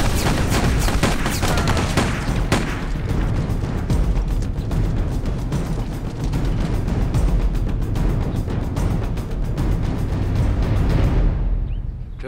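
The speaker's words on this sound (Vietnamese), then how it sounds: "Nghe thấy tiếng súng, nhanh rút." Sustained gunfire in a 2019 anti-Japanese war drama series, a loud dense fusillade of rapid shots rattling continuously for about eleven seconds before cutting off; no speech.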